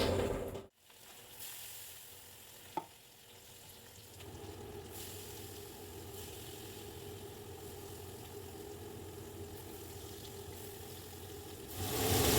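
Hilsa fish pieces fry together in plenty of oil in a kadai, a moderate steady sizzle with a low hum underneath, a short dip near the start and a sharp clink a couple of seconds in.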